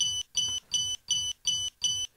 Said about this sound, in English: This should send the instrument into a pump alarm.